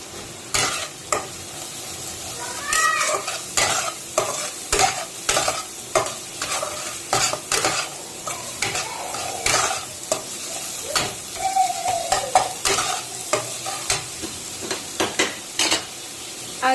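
Spices sizzle and are stirred in hot oil for rohu fish kalia, a steady frying hiss broken by repeated sharp scraping strokes of a spatula against the pan, close and clear with no talking.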